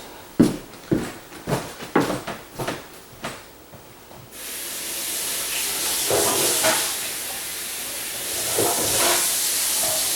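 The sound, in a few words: tap water running while rinsing hands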